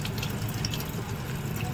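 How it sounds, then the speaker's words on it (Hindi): Water is poured steadily over a waterproof ID card sticker, giving a continuous close splashing wash without pauses. "पानी धनाधन हम लोग इसके ऊपर डाल रहे हैं।"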